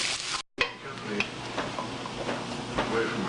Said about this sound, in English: I've now added in the tomatoes, so we're going to let it cook all together for a couple minutes